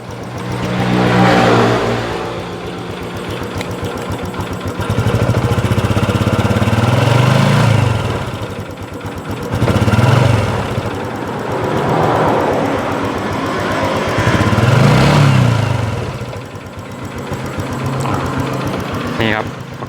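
A 2012 Honda Wave 125i motorcycle engine runs close by, a steady mechanical drone with swelling surges of revs, mileage around 80,000 km, while someone talks over it.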